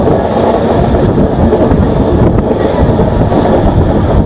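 A Jan Shatabdi Express train runs near Ratnagiri, its wheels and carriages giving a loud, steady rumble and rattle with brief high squeals, heard close and continuous.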